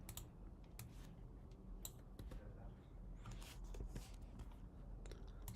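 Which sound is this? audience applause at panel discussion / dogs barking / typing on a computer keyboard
typing on a computer keyboard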